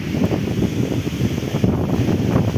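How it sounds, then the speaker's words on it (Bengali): Cyclone Remal wind buffets a rooftop at night, loud low rumbling gusts pounding the microphone in a continuous, uneven roar. "এই যে একটু বাতাস হচ্ছে, এখন দেখা যাচ্ছে"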